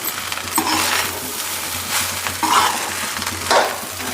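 Egg fried rice stir-fries in a pan with a constant close sizzle, punctuated every second or so by scraping, tossing strokes of the spatula.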